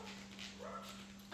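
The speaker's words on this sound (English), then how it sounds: "if you hear the barking in the background" A dog barks in the background during a quiet indoor arm workout session, a few faint yips and barks heard at a distance over a steady low hum.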